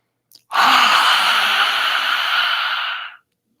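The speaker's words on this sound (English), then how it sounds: "let's take an inhale together" A long, deep breath drawn in steadily for nearly three seconds during a group breathing exercise, loud and close, airy and even, preceded by a tiny catch of breath.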